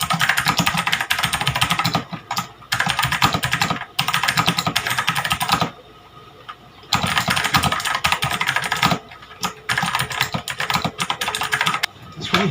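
Clicky typing on an HP GK100 mechanical keyboard with Otemu Blue switches, recorded from about two feet above; bursts of rapid keystrokes with brief pauses between runs, fairly loud and close.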